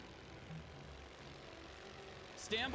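Propeller warplanes drone overhead in a WW1 strategy game, a steady low engine hum under battlefield noise with a louder pass near the end.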